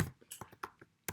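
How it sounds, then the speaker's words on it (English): Keys on a computer keyboard clack in a short, uneven burst of about half a dozen separate taps, fairly faint and close, with no talking. "We're actually typing something here."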